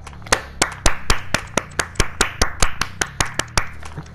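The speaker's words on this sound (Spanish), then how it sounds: "Aplausos, aplausos, por favor." Steady clapping by a small group, about four claps per second, sharp and fairly close, with no voices over it.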